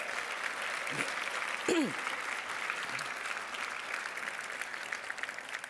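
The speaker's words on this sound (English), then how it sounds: "Give the host committee a round of applause, please." A banquet audience at a democracy celebration gives a steady round of applause for the host committee, moderately loud and continuous, with a brief voice cutting through.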